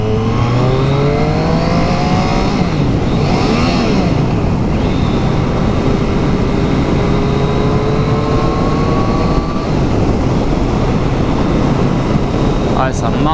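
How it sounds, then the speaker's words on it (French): A Triumph Street Triple S A2 motorcycle with its stock exhaust revs hard and loud up close, engine pitch sweeping up and down repeatedly through several throttle blips, with a voice talking over it. "ce son qu'elle a, franchement pour un pot d'origine"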